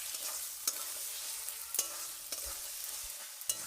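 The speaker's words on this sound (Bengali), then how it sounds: "3-4 মিনিট ভালো করে কষে নিতে হবে।" Onion and poppy seed paste frying in a pan, a soft constant sizzle with a few sharp spatula scrapes against the pan at uneven intervals, close and steady with no voices.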